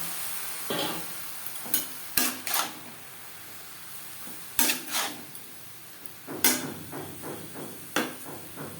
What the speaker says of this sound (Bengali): চিচিঙ্গা বেশ ভালো করে মিক্সড করে দেবো দু তিন মিনিট নাড়াচাড়া করে নেওয়ার পর